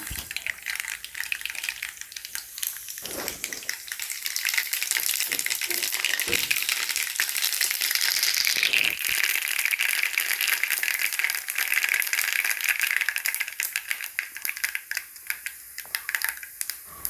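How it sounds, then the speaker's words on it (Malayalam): Mustard seeds go into hot oil in a pan for Kerala-style kanthari chilli pickle, giving a dense, close crackle and popping hiss that keeps going for the whole stretch, with a few clinks and no talking. "എണ്ണ ചൂടായി വരുന്ന സമയത്ത് നമുക്കിതിലേക്ക് കടുക് ചേർത്ത് കൊടുക്കാം"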